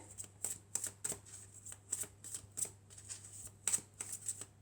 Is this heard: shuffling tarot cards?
yes